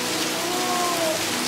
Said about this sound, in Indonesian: lihat hujannya deras banget